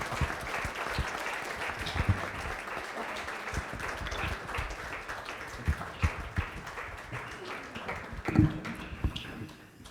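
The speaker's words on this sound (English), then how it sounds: "give them a big round of applause for standing in the gap for AYAs in our community." An audience at a spring charity luncheon for a cancer foundation in San Antonio gives a round of applause. The clapping is soft and somewhat distant, with a few louder individual claps and taps standing out.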